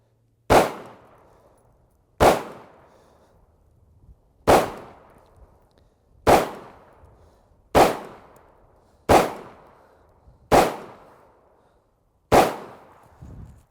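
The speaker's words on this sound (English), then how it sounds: "So let's just shoot one more mag here real quick." Eight sharp, loud gunshots from a Hi-Point firearm ring out one at a time, each about one to two seconds apart, every crack trailing into a short echo with no talking.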